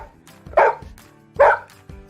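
A dog barks twice, loud and close, with a short pause between the sharp barks and quieter background noise around them.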